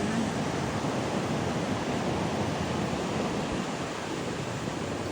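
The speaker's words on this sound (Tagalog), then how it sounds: "Ang alon." Steady, loud roar of surf, a continuous broadband wash of breaking waves with no pauses, heard close up without any voices.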